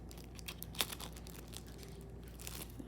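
A blade slicing and tearing the plastic packaging of a portable monitor's large charger block, with quiet crinkles and one sharp snip near the start, soft and close in an otherwise still room.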